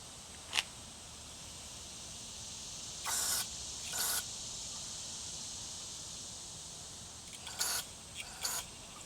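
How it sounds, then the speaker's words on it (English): Compressed air is blown through a carburetor venturi in short, faint hissing bursts, a few separate puffs over a quiet background hum, with no talking. "Watch it blow out right there on the top of that venturi."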